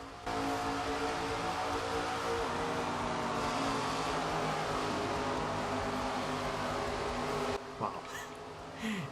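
Race cars in SRX: The Game speed along in a continuous high-pitched engine drone, loud and sustained, cutting out abruptly near the end.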